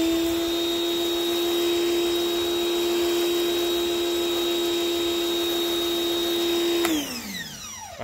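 A SunJoe 4000 electric pressure washer sprays a gentle soap mist, a loud steady motor drone and hiss held evenly for about seven seconds before the pitch drops sharply as it shuts off and spins down.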